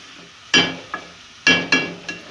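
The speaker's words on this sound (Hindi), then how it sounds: "इस तरह मिक्स करें कि मसाला तमाम चिकन में अच्छी तरह से लग जाए और ये भूनने में भी फिर आसानी से भुनेगा" Chicken pieces coated in masala are stirred and fried in a pan during chicken korma cooking, with a steady sizzle broken by several sharp scraping strokes of a spoon.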